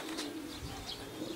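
Pigeon cooing at a racing-pigeon loft during the birds' arrival, soft low coos repeating under a steady ambient hum, fairly close and moderately quiet.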